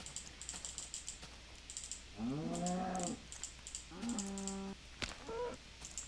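Cows mooing in the Minecraft video game, two or three drawn-out moos in a row, fairly close, over keyboard typing and clicking.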